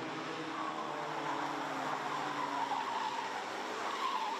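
A Micro Max racing kart on a circuit in a 2024 final, engine noise with tyre skidding, steady and fairly distant for the whole clip.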